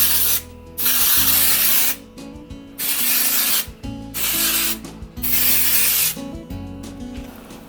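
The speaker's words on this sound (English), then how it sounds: "I love a little texturizing spray just to make it, I guess, a little bit more gritty" Dry texturizing spray misted onto curled short hair, heard as four or five long, loud hissing bursts of about a second each, separated by brief pauses with faint rubbing and handling sounds in between.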